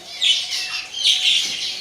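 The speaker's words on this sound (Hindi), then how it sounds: "यार हमारे केज के अंदर चिड़िया आ गई है" A small wild bird trapped inside a cage chirps in two bright, close bursts while fluttering about, loud and clear with no talk over it.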